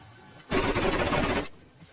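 A single burst of rapid automatic gunfire lasting about a second rattles out in the BGMI battle royale game. It is loud and dense, then fades into quiet background noise.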